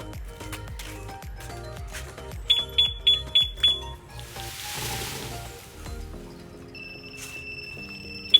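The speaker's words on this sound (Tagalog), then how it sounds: "yung unang tunog na yan is warning, then yung second, mag-a-alarm siya ng malakas" A two-way alarm system sounds five sharp electronic warning beeps in quick succession, followed later by a steady, high-pitched alarm tone, amid background clatter and rumble.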